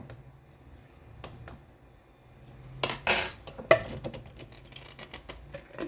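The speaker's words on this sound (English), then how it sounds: "I'm going to take a spoon, pop that seal" A metal spoon prying the lid seal of a glass canning jar of homemade enchilada sauce: faint scattered clicks, then a sharp pop and a few quick metallic taps close by.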